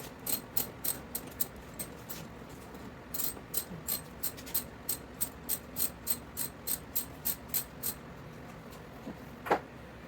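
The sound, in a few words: ratchet with 10mm socket loosening intake bolts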